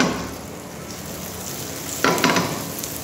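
Chicken breast sizzles in butter in a hot pan, a steady close frying hiss that jumps louder near the end as the pieces are moved or flipped; no talking.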